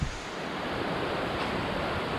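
A waterfall on a mountain climb in Thailand gives off a steady, loud, close rushing roar of falling water that stays even throughout, with no voices.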